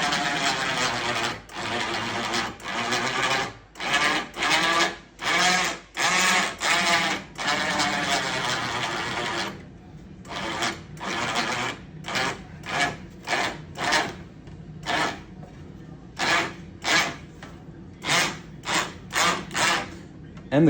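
A bead roller forming sheet metal for car inner fenders: a rough, grinding mechanical rolling in long continuous runs, then shorter rhythmic bursts with brief pauses, loud and close in a workshop.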